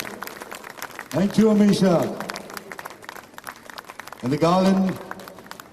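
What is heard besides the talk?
audience applause at a film announcement event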